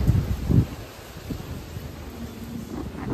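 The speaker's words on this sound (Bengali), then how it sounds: "প্রচুর জোরে হাওয়া দিচ্ছে।" Strong wind blows past a dried-out, leafless tree, giving low buffeting gusts that swell briefly at the start and then continue as a steady, moderate rush.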